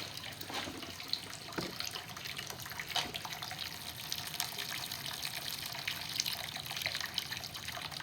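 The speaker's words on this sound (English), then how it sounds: "Let's see what happens if I pull the drain out. I probably lose all control of it." Evapo-Rust pours from the drain of a Nissan L28 engine block in a steady, continuous gushing stream that runs unbroken throughout at a moderate, even level.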